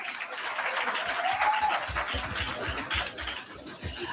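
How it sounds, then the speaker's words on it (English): Background applause from people in a crowd plays through a video, a continuous rustling clatter heard at moderate distance with no clear speech over it. "you can hear the applause of people in the background"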